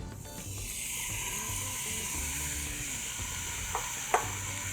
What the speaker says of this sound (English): We want to hear that sizzle.